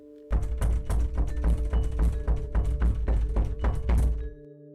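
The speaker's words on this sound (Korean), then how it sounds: "문을 두들기는 소리가 더욱 시끄러워졌습니다." Heavy, loud pounding knocks on a door strike rapidly and repeatedly, about a dozen thuds in a row, then stop abruptly.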